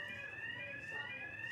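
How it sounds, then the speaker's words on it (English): An office fire alarm sounds a steady, continuous high electronic tone at moderate distance, unbroken across the moment with no talk over it. "Alarm. That's a fire alarm."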